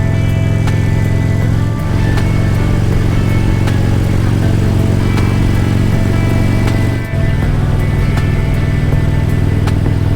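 Motorcycle cruising on a highway in British Columbia, near the Alberta border, with a steady loud engine drone and wind rush throughout, the engine tone briefly dipping twice as if shifting gears.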